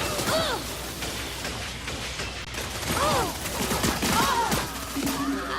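Gunfire in the shooter game Lawbreakers, rapid bursts of shots mixed with whooshing, swooping synthetic weapon effects and mechanical clicks, loud and busy throughout.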